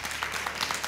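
A studio audience at a cricket talk show claps briefly, a short patter of scattered hand claps over a low room hum.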